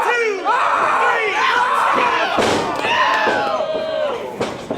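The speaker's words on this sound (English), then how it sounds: "Fans trying to power Millz back to his feet" Wrestling fans roar and cheer continuously at a Love Pro Wrestling independent show, a loud, dense crowd with shouts and a few thuds, swelling in bursts throughout.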